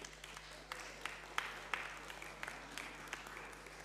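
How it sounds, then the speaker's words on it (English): Scattered applause breaks out among a church congregation during a Sunday service, a faint, loose patter of claps with a few sharper hand strikes standing out over a steady low hum. "let's give them a round of applause"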